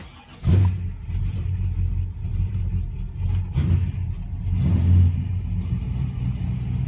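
American muscle car engine cranks and fires, then settles into a loud, close, rumbling idle with small revs held near 1,000 RPM, no talk.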